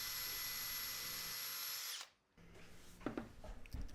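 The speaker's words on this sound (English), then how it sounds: "clamped that to both so I could drill and run in some small brad nails to hold that canvas onto the frame" A power drill boring into a timber frame for brad nails, one loud steady whine lasting about two seconds before cutting off, followed by quieter handling clatter and a few knocks.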